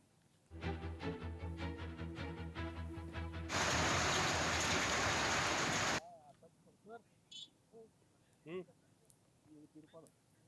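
A burst of steady heavy unseasonal rain hiss in Niphad, Nashik district, Maharashtra, lasts a few seconds, flanked by music before and people talking after.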